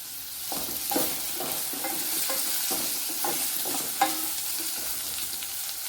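About ten small shallots go into a hot pan for a Kerala-style beetroot chammanthi and fry with a steady, close sizzle, while regular scraping strokes of a stirring spoon cut through it. No one speaks.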